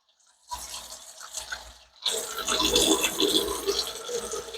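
Water and loosened debris flushing out of an older fridge's freezer drain line, a faint trickle at first, then a louder, steady gurgling rush of flowing, splashing water close by.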